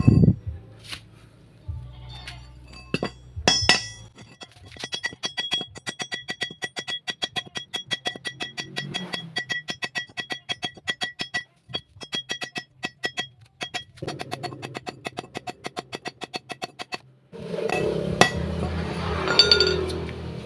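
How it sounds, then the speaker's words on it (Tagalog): A hammer taps metal densely, rapidly and steadily for many seconds while shaping a curve for a used-oil stove, close and bright, with a few heavier knocks at the start and a louder scraping burst near the end. "gagamitan natin ng martilyo pupukpukin natin"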